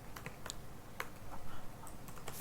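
Quiet, sparse keystrokes on a computer keyboard, with scattered single clicks and short bursts as code is typed for a Unity tutorial, heard close and alone.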